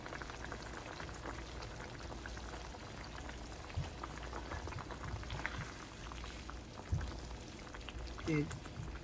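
A pot of potato and egg curry boils steadily, giving a faint, continuous bubbling hiss with a couple of soft knocks near the end.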